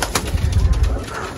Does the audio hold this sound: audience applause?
no